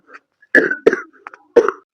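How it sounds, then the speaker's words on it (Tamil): Three short, harsh coughs close up, spaced unevenly across a couple of seconds, with a faint throaty sound before them. "ரொம்ப இருமுறீங்களே சார்."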